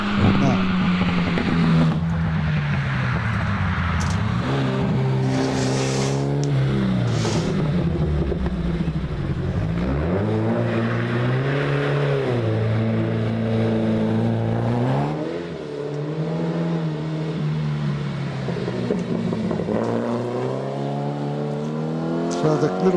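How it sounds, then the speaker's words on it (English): A Fiat X19 race car at a hillclimb on Lake Mountain roads, its engine revving and rising through gears with repeated climbs and lifts as it approaches, loud and near, with a commentator talking over it. "So the little car coming up that looks a bit like a Chimera, but it's a bit more refined, is the Fiat"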